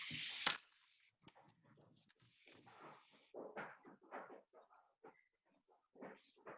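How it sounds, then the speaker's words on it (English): A dog whimpers and gives short snorting barks indoors at a home workout, with scattered soft yelps, breaths and small clatters spread across several seconds. "Dog."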